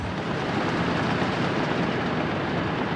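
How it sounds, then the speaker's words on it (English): A model railway train runs continuously with a steady, even rolling rumble and hiss at moderate loudness, with no talk over it. "This is one of those that just goes around for the sake of it. It's the model railway."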